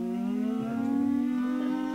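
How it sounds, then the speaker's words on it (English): Air raid siren wailing steadily with a rising and falling tone, loud and continuous, with no voices over it. "the sirens went off."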